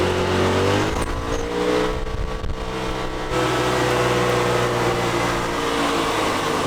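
Off-road buggy with knobbly tyres in two-wheel drive, engine droning and revving steadily as it slides through slippery mud, loud and close throughout with no talk.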